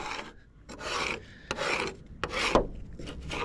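A tool scrapes caked wet grass off a hay tedder in repeated rasping strokes, five or six close, gritty scrapes separated by short pauses, with no voices.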